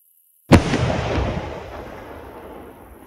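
Fireworks shell cake in the video game Fireworks Mania: one sharp, loud explosive burst after a moment of silence, followed by a long rumbling, crackling decay.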